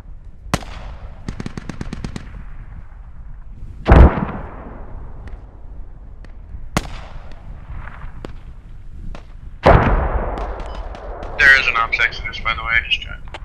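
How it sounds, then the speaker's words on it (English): Mortar rounds landing in the shooter game Squad: a few sharp distant blasts and rumbling impacts spaced several seconds apart, with faint crackles between and voices over radio at times. "I got 3 rounds landing in SUNY right now"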